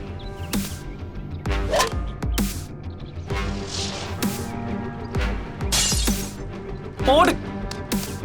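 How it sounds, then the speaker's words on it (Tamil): Car window glass shattering when struck by a cricket ball during a street match, heard as several sharp crash bursts amid excited shouting and talk. "என் கார் கண்ணாடி போயிடுச்சுடா"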